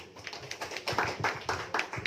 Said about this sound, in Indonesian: Tepuk tangan buat Pak Divyo.